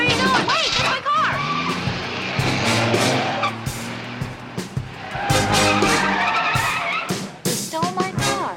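A stolen car tears away with tires skidding and squealing, engine revving in sharp bursts near and loud, while voices speak over the commotion.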